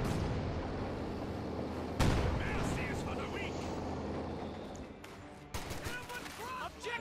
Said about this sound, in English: The Captain taking heavy fire up in the open.